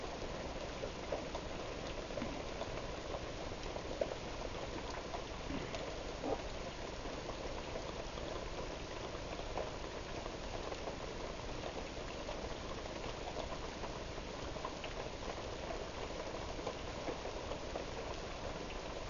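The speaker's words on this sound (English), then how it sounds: "It's rained harder and the wind's blown stronger." Tropical rain falls steadily in a dense, even hiss of countless drops, with faint scattered taps on surfaces, moderately distant and unbroken, with no voices.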